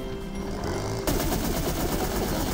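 Gunfire in Plants vs Zombies 2 3D, a shooter game: after a quieter moment, a rapid, steady stream of shots starts up abruptly and continues at moderate volume to the end.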